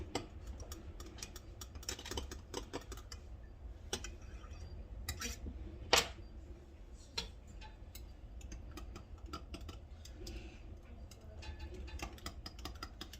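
Liquid plastic for soft-plastic fishing lures being stirred, a quiet run of irregular ticks and light clinks of the tool against the container, with one sharper knock partway through.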